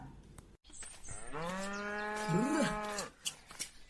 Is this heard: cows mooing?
yes